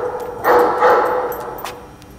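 A dog barks in a film melodrama, two loud, close barks in quick succession followed by a fainter yelp, in a domestic indoor scene with no talk over it.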